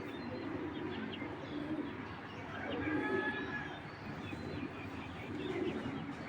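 Racing club pigeons kept for breeding and sale coo softly and continuously at close range, a low murmuring chorus with occasional faint chirps mixed in.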